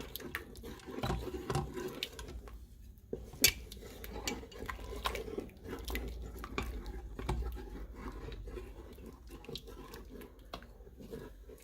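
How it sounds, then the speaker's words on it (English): Ingredients get stirred around in a pot, with scattered scrapes, clinks and knocks of a utensil against the pot, fairly faint and irregular, with no voices. "And I'm going to stir it around."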